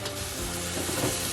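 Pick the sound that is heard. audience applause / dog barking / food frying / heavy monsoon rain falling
food frying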